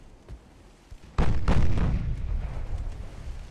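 British destroyers firing naval guns in Ultimate Admiral Dreadnoughts: a faint distant thump, then two loud booming blasts close together that roll and fade into a lingering rumble.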